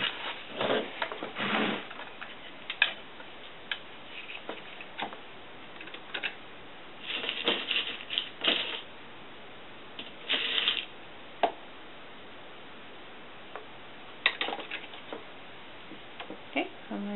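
A sewing machine stitches a doll coat from top to bottom in short, irregular bursts of rapid mechanical clatter separated by pauses, close and fairly quiet.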